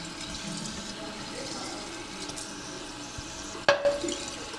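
Tap water runs steadily into sample bottles at a water testing point, a constant hiss with a sharp clink near the end as a bottle or cap is handled.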